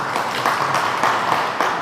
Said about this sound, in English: Can we please all once again give with a very wonderful applause?